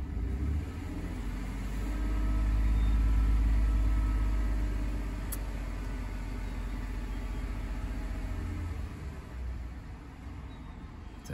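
A Ford F150 pickup with a suspected alternator or charging-system fault rumbles low and close, its engine swelling in one brief rev before settling back to a steady idle, with no talking.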